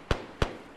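Two sharp, loud gunshots about a third of a second apart ring out in an Arma 3 firefight at a base, each with a short decaying tail and no talking.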